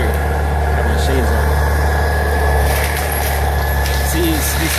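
A tractor engine runs steadily at idle outdoors while trees are being cut, a continuous low mechanical hum throughout with a voice talking over it.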